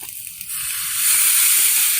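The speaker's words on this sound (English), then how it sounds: "I'm going to give them just a little bit of water squirt" Water squirted onto pizza toppings on a hot Blackstone griddle sets off a steady, bright sizzle and hiss that swells after the first second and holds, close and loud with no talking.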